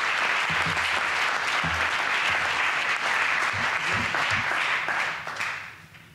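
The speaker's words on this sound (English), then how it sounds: "If you'd indulge me with a brief round of applause to recognize the staff and volunteers." A brief round of applause at an annual town meeting honoring staff and volunteers, many hands clapping loudly and steadily, with a few louder claps standing out before it thins and fades near the end.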